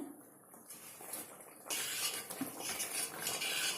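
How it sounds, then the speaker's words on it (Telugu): Taro root curry simmering in a pot is stirred, with scraping spoon-on-metal clatter and soft bubbling, growing louder and busier in the second half; no talking. "మధ్య మధ్యలో ఒకసారి కలుపుదాము"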